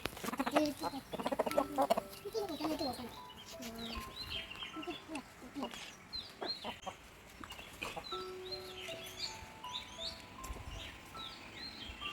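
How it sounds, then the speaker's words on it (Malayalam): A flock of chickens clucks softly while eating onions, a faint scattering of murmuring clucks and short calls with busier activity at the start. "അപ്പോൾ നമ്മളെ കോഴികൾ നന്നായിട്ട് തന്നെ ഭക്ഷണം കഴിക്കുന്നുണ്ട് കേട്ടോ"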